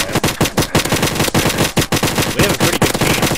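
Rapid bursts of automatic gunfire from a red gun in the Roblox game PowerUp, loud and close, with rapid repeated shots running throughout and brief gaps between volleys.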